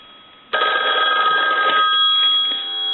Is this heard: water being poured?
no